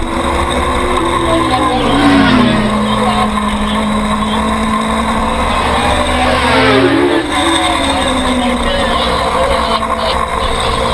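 Superstock motorcycles race through turn 12 of a WSMC novice open event, engines whining and rising and falling in pitch as they pass, loud and continuous under a race commentator's voice.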